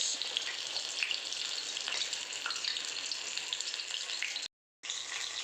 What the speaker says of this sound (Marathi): आपले सोया चंक्स चांगले डीप फ्राय होत आहेत